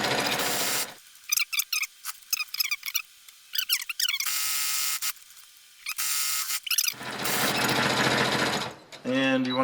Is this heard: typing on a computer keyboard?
no